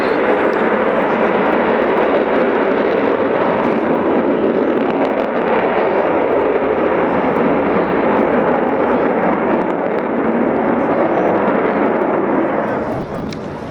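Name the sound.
Avro Vulcan bomber flying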